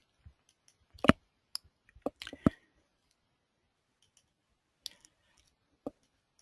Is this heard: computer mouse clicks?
yes